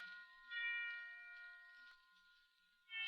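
Christmas bells ring in a few soft, sustained chimes with long ringing tones, faint and distant against a quiet background, swelling again near the end.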